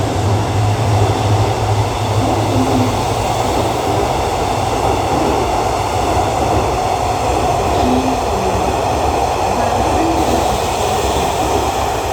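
A long-distance train with new CNR sleeper cars, hauled by Hitachi locomotive 4517, rumbles steadily past at close range on Bangkok's Red Line tracks, a loud continuous roar of rolling wheels with faint squeals and clatter throughout.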